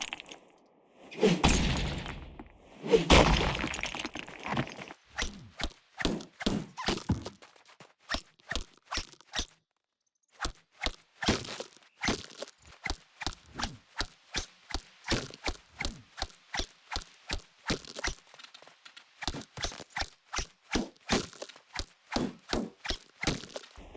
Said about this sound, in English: I never realized how much it sucks to mine this stuff without raw explosion and without a bronze pickaxe